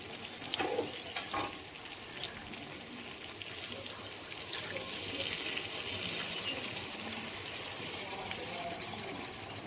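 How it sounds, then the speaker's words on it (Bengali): Hot water goes into braised chicken meat in a cooking pot, giving a continuous rushing, bubbling hiss over sizzling, with a few clinks and stirring sounds near the start. "এখন কষা মুরগির মাংসর মধ্যে আগে থেকে তৈরি করে রাখা গরম জল পরিমাণ মতো দিয়ে দিচ্ছি।"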